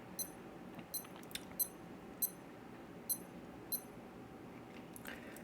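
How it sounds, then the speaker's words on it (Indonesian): A Casio A168W digital watch beeps about seven times, short high-pitched chirps spaced irregularly, close and clear over a quiet room background. "Salah satunya adalah A168W ini, malah bunyi nih."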